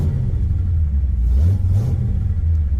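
A car engine idles steadily nearby, a low continuous rumble with slight swells in pitch, no voices.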